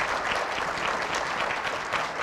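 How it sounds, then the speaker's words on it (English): Steady crowd applause, many hands clapping continuously throughout without any voices. "let's give the governor and the First Lady a round of applause."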